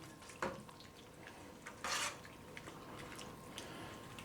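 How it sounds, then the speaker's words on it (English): Vegetables being stirred in a hot pan for tom yum soup, with brief scraping and sizzling bursts at moderate distance over a quiet kitchen background. "Just a quick little stir on there to get that in there."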